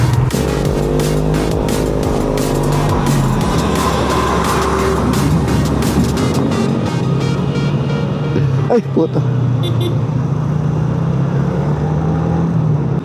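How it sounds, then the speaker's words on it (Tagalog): Cars pass in road traffic, a continuous engine rumble that swells and fades with a nearby vehicle passing, while a person speaks briefly over it. "Hindi, traffic talaga rito."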